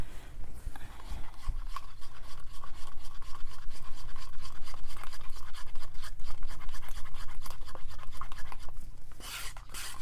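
A stick stirs thick acrylic paint mixed with Floetrol in a cup, producing continuous close rasping and scraping strokes against the sides at a steady rhythm, with a brief louder scrape at the end.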